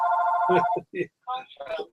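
A telephone rings for an incoming caller on a talk show with three older hosts, a steady bell tone at the start, then brief bursts of ringing mixed with a voice talking over it.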